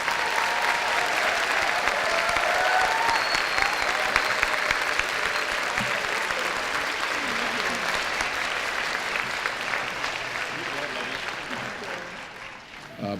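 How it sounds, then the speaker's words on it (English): An audience applauds at a school awards ceremony with sustained, dense clapping that holds loud and steady before tapering off at the end. "Let's give them a round of applause."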